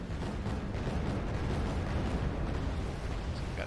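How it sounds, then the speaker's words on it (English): Rapid-firing 76mm naval cannon in the video game Wargame: Red Dragon, heard as a dense, continuous roar of booming blasts that blur together at steady loudness, with no talk over it. "A rapid firing 76mm cannon"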